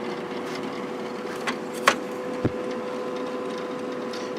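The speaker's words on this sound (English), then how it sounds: "It's pretty quiet. There's a little bit of rattling coming from the vent" A Kenmore 5,600 BTU window air conditioner runs on fan mode with a steady, even hum, while a loose vent rattles in a few brief, light ticks.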